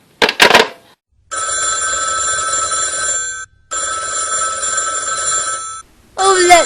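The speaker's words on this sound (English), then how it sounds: "Let it go on ringing. I won't answer it." An old-style telephone bell in a radio drama rings in two long bursts separated by a short pause.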